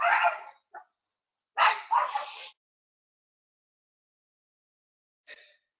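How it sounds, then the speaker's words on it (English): Dogs barking indoors, a few close sharp barks in a short burst, then a pause and one fainter bark. "my dogs are barking"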